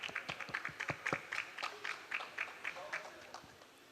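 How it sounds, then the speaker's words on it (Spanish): An audience applauds to welcome a speaker at a university talk on sustainable residential proposals, a modest scattered clapping at a distance that fades out over a few seconds. "Lo recibimos con un fuerte aplauso."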